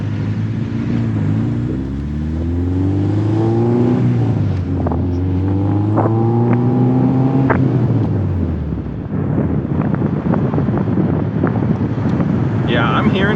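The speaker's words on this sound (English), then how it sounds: "And I hear the beautiful sound of the Honda." A K20-swapped Honda Civic on the street: the engine revs climb and fall through several gears in clear rising tones, then the noise turns rougher, with heavy wind buffeting and muffled voices.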